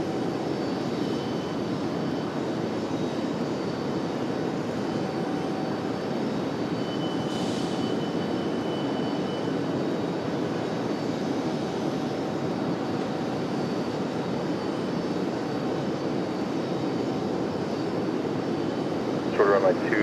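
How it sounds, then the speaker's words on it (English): A United airliner's jet engines roar steadily at an airport before departure, a loud continuous broadband rumble that holds without pause. "Got a United headed out here for departure."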